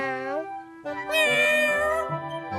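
A person's voice imitates a cat in Ukrainian, giving a drawn-out "nyav" followed by a second, higher, wavering meow, close and clear.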